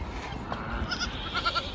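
A flock of sheep returning from grazing gives a couple of short, nasal bleats close by over a soft outdoor background, in a brief burst without speech.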